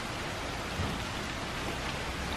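Rain falling steadily outside at a guesthouse in Gramado, a dense even hiss of drops on surfaces, continuous and moderately close with no voices.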